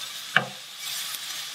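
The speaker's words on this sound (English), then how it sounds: "Stirring it as we do." Softening garlic is stirred in a hot pan with a steady close sizzle, a single sharp utensil scrape and a fainter tap later.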